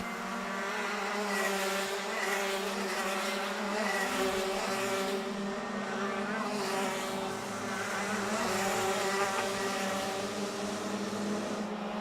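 Senior Max racing karts run flat out on a track through a tight corkscrew section. A steady, loud, high-pitched engine whine drones on for the whole clip, with overlapping karts rising and falling in pitch.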